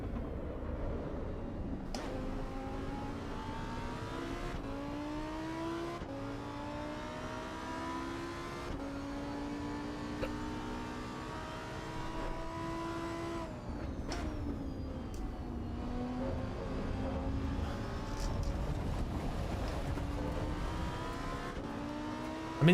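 A race car engine in the Assetto Corsa EVO video game revs and shifts repeatedly, pitch climbing and dropping through the gears in a continuous, moderately loud run with no pauses.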